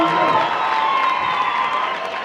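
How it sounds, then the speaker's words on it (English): A rugby crowd cheers in the stands at an international warm-up friendly between the Welwitschias and the Pumas, a loud sustained roar with shouting voices and some clapping, easing off slightly toward the end. "The crowd in the field looks electrifying, exciting"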